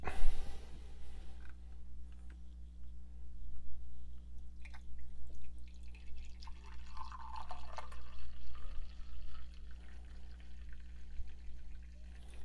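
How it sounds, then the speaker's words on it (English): Chemex-brewed coffee is poured from the carafe spout into a cup, making a soft, continuous liquid trickle with small drips over a steady low background hum, and no talking. "And I'm going to pour it into my cup."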